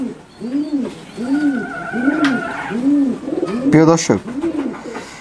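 A Nil Dumba high-flyer pigeon coos in a steady run of about six soft, rounded, evenly spaced calls, close by, with a brief voice speaking partway through and a short clatter near the end.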